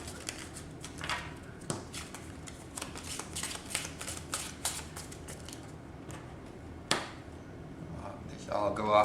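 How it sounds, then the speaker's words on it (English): Gold cards and other board game cards are shuffled, flicked and set aside in a steady run of quick, crisp papery snaps and slides, close and fairly quiet, with a louder slap near the end. "Let's set these gold cards aside."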